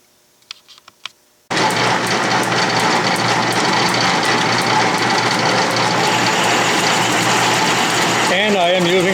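Logan metal lathe running under power feed while taking light taper cuts, a steady close mechanical whir and chatter that starts abruptly after a few faint clicks and runs continuously.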